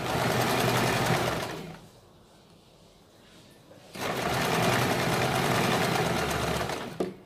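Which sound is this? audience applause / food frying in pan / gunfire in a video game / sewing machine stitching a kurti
sewing machine stitching a kurti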